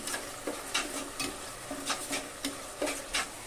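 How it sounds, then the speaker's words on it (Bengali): Spice paste with salt and water being sautéed in a pan for a vegetarian banana-flower dish, with soft sizzling under regular scraping strokes of a spoon stirring the mixture, several distinct scrapes in quick succession. "মশলাটাকে ভালোভাবে কষিয়ে নিতে হবে"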